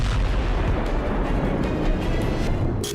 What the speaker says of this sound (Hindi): दूसरा धमाका भी वहीं होता है